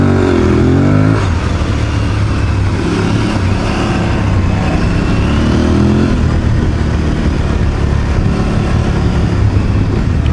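A 2022 Aprilia Tuareg 660 adventure motorcycle engine accelerating hard on an open road, a loud, continuous rising drone with strong low-end pull, close and steady throughout with no talk.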